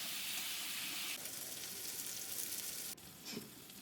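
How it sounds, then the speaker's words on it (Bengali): Potatoes with salt sizzle and fry steadily in a hot pan, a continuous close hiss that briefly drops and shifts as they are stirred, with no talking. "কষতে থাকব।"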